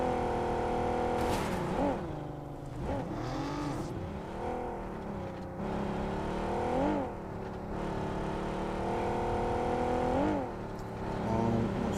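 A car engine drones steadily through a video game match, with repeated rising and falling revs as gears shift and the vehicle moves around, loud and continuous with no talk over it.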